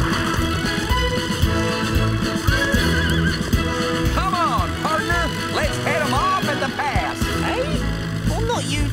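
Cartoon racehorses neigh and whinny repeatedly over clip-clopping hooves while a background score plays; the loud, continuous sounds fill the scene with no speech.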